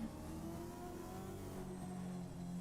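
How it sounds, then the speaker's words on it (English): A steady supercar engine drone in a racing video game hums on at a faint level with a slight rise and wavering pitch, as of a car revving. "You can just hear the engine there."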